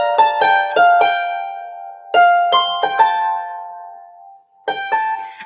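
Plucked harp phrase with a G grace note leading into A, clear ringing notes in small clusters separated by short pauses, close and resonant with long decays.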